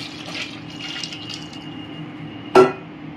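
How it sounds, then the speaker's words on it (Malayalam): Water pours steadily into a cooking pot of washed masoor rice for chicken tahari, a continuous splashing flow with one brief sharp clink near the end. "ഞാൻ 4 ഗ്ലാസ് വെള്ളം ചേർത്തിട്ടുണ്ട്."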